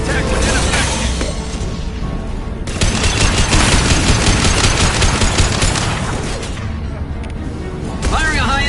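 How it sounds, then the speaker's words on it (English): Gunfire in Mass Effect 2 erupts in loud rapid bursts of automatic shots, dense and sustained for several seconds among booms and battle noise, with voices speaking over the combat. "Firing a high-impact shot!"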